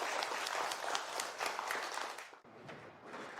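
Audience applause greets a professor at an award ceremony: a dense, steady wash of clapping holds throughout, dipping briefly near the end before continuing at full strength.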